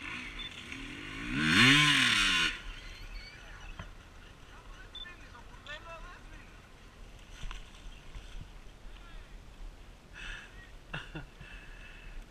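An enduro motorcycle engine revs hard in a loud, rising-and-falling burst that may come from a stuck throttle, then drops to faint, distant engine whines and wind at a muddy Greek enduro event in Katerini.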